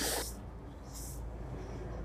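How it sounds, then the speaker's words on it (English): Aerosol spray hissing onto Lada car parts near the clutch master cylinder during a restoration clean-up, in two short bursts: a longer one at the start and a brief second one shortly after, close and fairly quiet. "Spray that, and then we can get going with the cleaning."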